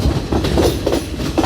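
A train running on the Badulla to Colombo railway in Sri Lanka, with a loud, continuous rumble and rhythmic clickety-clack of the wheels heard close by throughout.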